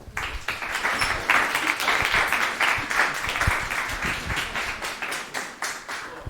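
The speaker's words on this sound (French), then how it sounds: "Merci à nos intervenants que je vous demande d'applaudir." A conference audience at a business forum in Clermont-Ferrand applauds the speakers, a dense, sustained round of clapping from a full room that holds fairly even throughout.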